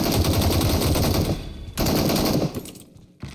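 Rapid automatic gunfire from the PUBG video game on the Miramar map rattles in a loud, dense burst that cuts off briefly, resumes, then stops, with a single late shot.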